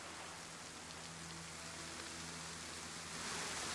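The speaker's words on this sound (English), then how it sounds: "just waiting for it to stop raining." Steady rain falls in the DayZ survival game, a continuous soft hiss of droplets with no breaks, even and fairly faint throughout.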